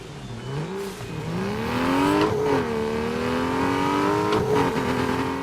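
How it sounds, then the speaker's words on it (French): An Aston Martin V12 Vantage engine revs up, its pitch climbing smoothly and repeatedly with a brief dip between pulls, a loud, close, sustained roar with no voices. "Alors là, il y a la Aston Martin V12 Vantage."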